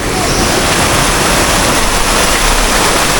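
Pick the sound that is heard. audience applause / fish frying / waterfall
waterfall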